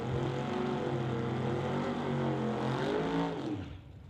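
Drag-racing cars, a Ford Mustang against a Chevy Malibu, roar steadily at a distance with a sustained engine drone that fades out at the end.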